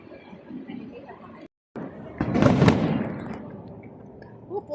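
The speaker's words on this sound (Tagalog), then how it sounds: "Putukan." Fireworks and firecrackers burst at a Filipino outdoor celebration, a dense crackling volley swelling midway through amid crowd chatter and background voices, with a brief dropout before it.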